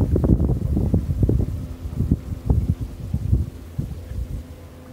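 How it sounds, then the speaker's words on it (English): Wind gust buffeting the microphone aboard a Catalina 27 under sail, a loud, uneven rumble of gusty blasts that pulse and rise and fall for several seconds. "And see, there's your gust."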